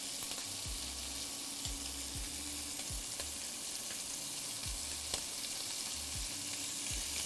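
Pork sausage sizzles and fries in a pan with a steady hiss throughout, broken by repeated low scraping knocks of stirring at a regular pace.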